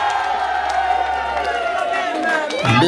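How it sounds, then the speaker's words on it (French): Crowd cheering and whooping at a 55th birthday party in Montreuil, a continuous roar of voices with shouts rising near the end over music. "Un tonneur d'applaudissements, mesdames, mesdemoiselles et messieurs."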